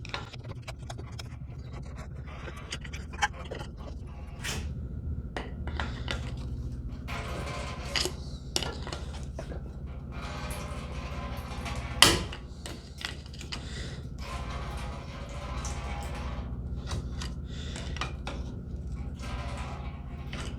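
Brake caliper pistons being pushed back in on a 2005-2012 Nissan Pathfinder, with scattered clicks, creaks and metallic scrapes from the tool and caliper over a quiet garage background, one sharper knock near the middle.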